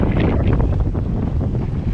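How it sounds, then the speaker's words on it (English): Heavy wind buffets the microphone in a continuous loud roar during a street walk along St. Clair West, rumbling and gusting with no other clear sounds. "Man, it's windy."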